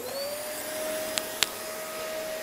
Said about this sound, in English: I am now hoovering the floor